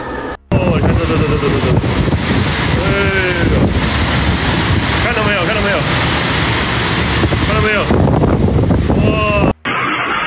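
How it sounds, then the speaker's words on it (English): Super Typhoon Yagi's violent wind batters Hainan island, China, a loud continuous roar of gusts with heavy microphone buffeting, wave and water noise underneath and a few whistling tones, cutting off abruptly near the end. "Super Typhoon Yagi has hit China's island province of Hainan"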